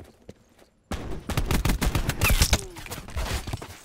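Gunfire in the PC shooter Black Ops 4 during a Gun Game match: after a near-silent opening, a loud burst of rapid automatic shots breaks in and continues densely, rattling close by without any speech.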